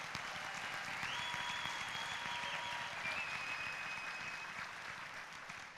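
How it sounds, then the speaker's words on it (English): Audience at a city state-of-the-city event applauding, a dense, sustained wash of clapping heard from the room, steady throughout and fading slightly at the end, with a few faint voices mixed in. "But let's give another big round of applause to Tim Smith, our very own Edinburg hometown"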